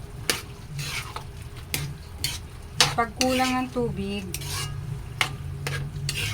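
Potatoes and carrots are stirred in a cooking pan, with a utensil scraping and clinking against the metal over a steady sizzle of frying. A voice speaks briefly in the middle.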